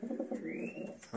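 A pigeon coos a few times, soft low murmuring calls close by, with a faint higher whistle passing through.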